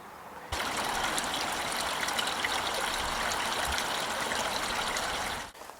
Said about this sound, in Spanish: aquí tendríamos nuestra fuentecita. De ahí vendría el agua.